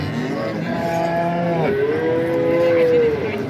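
Dairy cows low at a livestock market in Ambari, Dinajpur, where milking cows are sold with calves. Two long, loud moos come close together, the second a sustained drawn-out call, over a steady crowd murmur.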